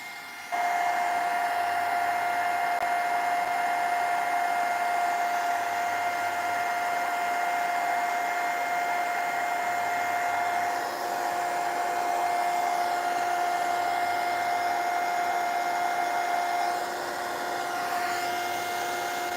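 A hair dryer blows on a paper collage in a steady, loud continuous whine that stays constant for almost twenty seconds, with no talking.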